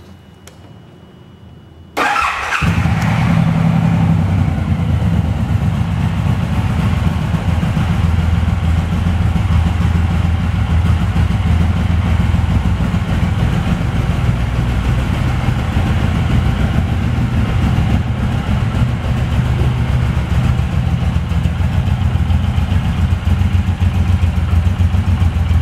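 A 2018 Suzuki Boulevard M109R B.O.S.S. cruiser motorcycle engine starts and settles into a loud, steady, rumbling idle close by, with no talking.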